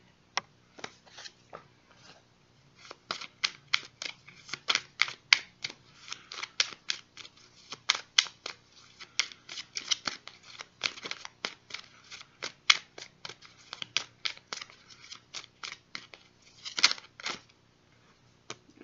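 A tarot deck is shuffled and a card drawn, heard as a long run of crisp, rapid card flicks and riffles in uneven bursts, close and alone without speech.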